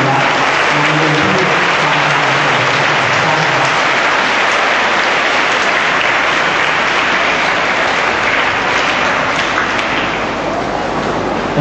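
Sustained, loud applause from a large audience welcoming a police colonel at a Father's Day Mass ceremony, a thick continuous roar of clapping lasting many seconds with a faint voice at the start.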